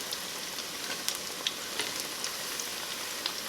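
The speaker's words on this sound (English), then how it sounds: "Cook that chicken through, and we'll be good to go." Chicken frying in a pan for General Tso chicken salad, a constant dense crackling sizzle with faint occasional stirring taps, close and steady with no voices.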